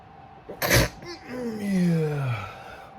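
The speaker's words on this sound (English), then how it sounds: "I'm going to sneeze." A single loud, close sneeze bursts out during a spoken devotional talk, followed by a short drawn-out vocal sound as the breath settles.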